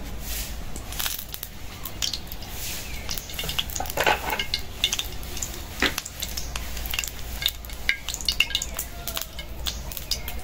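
Cabbage frying in soybean oil in a hot wok: a continuous close crackling sizzle with scattered spatters and occasional utensil scrapes, steady throughout with no talking.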